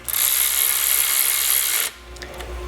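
A power tool runs bolts into a Ford Falcon, a steady high-pitched whir for nearly two seconds that then stops, leaving faint clicks and low background rumble.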